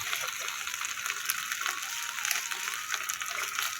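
Ghetkol leaves frying in a little oil in a wok, a bright continuous sizzle with light crackles and faint stirring, close and steady, alone without talk.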